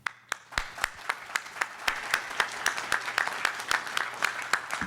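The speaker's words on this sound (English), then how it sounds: "So I want to give you a round of applause for that." A round of applause from the audience at British Columbia Premier David Eby's economic address in Surrey, scattered claps building into a steady, fairly close patter of many hands, with a few louder individual claps standing out.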